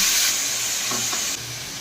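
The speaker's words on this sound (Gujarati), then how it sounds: "તેમાં આપણે આદુ લસણની પેસ્ટ નાખીશું।" Ginger garlic paste sizzles and spits in a hot pan while it is stirred for a Gujarati vegetarian dish, giving a steady close frying hiss with a few soft scraping touches and no talking.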